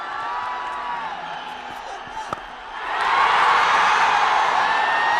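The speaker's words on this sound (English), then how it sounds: "The crowd, they say it all. They say it's 6 from the moment it left the bat. And it's the biggest roar of the day" A cricket crowd at an Oman versus Nepal match erupts into a loud, sustained roar after a six, swelling from a steady background murmur to a broad, continuous wall of cheering that holds to the end.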